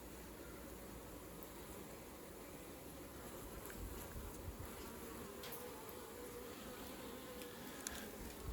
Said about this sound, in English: You can see a few excess bees dangling on the comb there